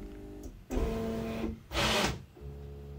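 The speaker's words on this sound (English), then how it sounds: "And then I do the Z home to the center of the bed." A 3D printer with a direct-drive Z axis homes toward the center of its bed, its stepper motors whirring in short, distinct bursts separated by brief pauses, close and clear with no talking.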